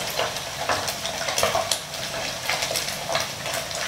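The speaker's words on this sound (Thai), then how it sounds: "ให้น้ำมันมันร้อนก่อนนะครับ แล้วก็หมูฝอยลงมาทอดนะครับ" Shredded pork frying in hot oil, a steady crackling sizzle with bright spattering bursts and occasional stirring scrapes, close and continuous with no talking.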